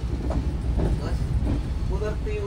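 Inside a moving Shatabdi Express coach on the Ambala–Delhi route, a steady rolling rumble with rhythmic wheel clatter runs throughout, with someone talking over it.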